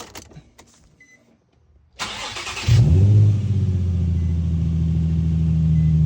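A Nissan 350Z cold-starts in a warm garage: a few quiet clicks, a sharp starter whir, then the engine catches and settles into a loud, steady idle drone.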